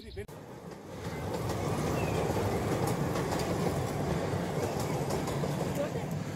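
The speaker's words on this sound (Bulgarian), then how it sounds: "Ето го влака. Ето го влакът." A steam train rolls past at Bressingham Steam & Gardens, a steady broadband rumble and clatter that builds within the first second and holds loud and continuous throughout, with no talk over it.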